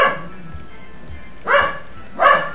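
A dog barks twice, in two distinct loud barks about a second apart, over a low steady room background with no talk.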